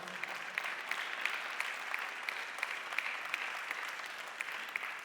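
A church congregation claps together in a sustained round of applause, dense and even with sharper individual claps standing out, heard from a slight distance with no talking.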